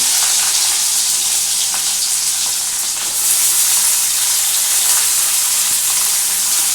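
Chopped onions fry in hot oil in a pan while a boal fish oil-and-chili curry is being made: a loud, dense, continuous sizzle that swells a little halfway through, with no talk.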